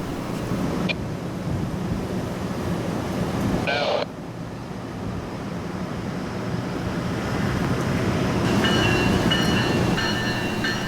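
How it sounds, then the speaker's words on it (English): CSX freight train backing into rock hopper cars makes a steady low rumble with rolling noise, interrupted by a sharp clank near four seconds, and faint squeals later as the cars move. "CSX O721 continued backing up into the rock hoppers."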